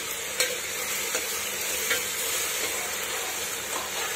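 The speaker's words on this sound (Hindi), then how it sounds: "तो अब हम इसके अंदर डाल देते हैं अदरक लहसुन का पेस्ट। कुछ सेकंड इसे भी फ्राई कर लेते हैं" Ginger garlic paste fries in a pan for mutton dal gosht, producing a loud, continuous hissing sizzle up close, broken by a few light spoon taps and scrapes.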